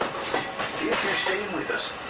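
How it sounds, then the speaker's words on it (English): The Magic Kingdom railroad train rumbles and squeals as it slows to a stop, with steady rolling wheel noise close by and voices faintly mixed in. "Please stay seated until our train comes to a complete stop."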